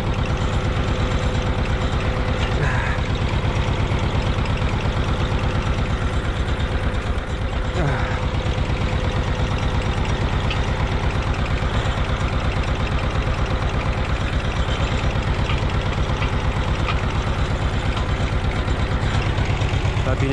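A tractor engine idles with a steady, heavy low-pitched throb, loud and close throughout, with faint voices mixed in underneath.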